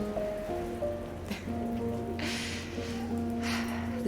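Rain falls steadily in the video game South of the Circle, a continuous soft patter that rises and swells in broad washes over a quiet tonal game-music bed, with no talk.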